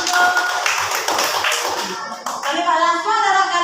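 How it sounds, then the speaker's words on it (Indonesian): Children applaud in an elementary school classroom at SD Negeri Wol, Kuwus Barat: a dense, close burst of clapping for about two seconds, then it fades into children's voices. "tepuk tangan untuk"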